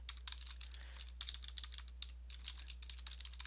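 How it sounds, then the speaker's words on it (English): Quick bursts of typing on a computer keyboard during an online match, crisp clicking keystrokes in uneven clusters close by, over a steady low electrical hum and with no talking. "Come on, get the typing going."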